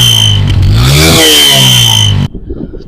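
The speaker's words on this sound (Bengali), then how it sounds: "এই বাইকটি সাউন্ড শুনলে আপনারা বুঝতে পারেন যে আসলে বাইকটি কতটা ফ্রেশ কন্ডিশন" A Bajaj Discover 135 motorcycle in fresh condition revs hard close up, its engine note rising and falling for about two seconds before cutting off abruptly, leaving only a low, faint idle.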